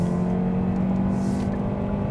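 A 2021 Kia Optima 1.6-liter turbo cruising at high speed, with a steady droning engine and road roar that holds constant and close throughout, without any talk.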